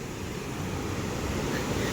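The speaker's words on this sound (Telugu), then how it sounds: "అలలు బాగా వస్తున్నాయి." Ocean waves wash onto a white sand beach in Phuket as a steady, broad wash of surf, mixed with wind noise, continuous and fairly loud with no voices.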